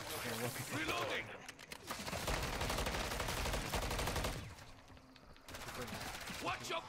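Rapid gunfire from a shooter video game rattles in dense automatic bursts, loud and continuous for several seconds with a short lull near the end, under a voice talking.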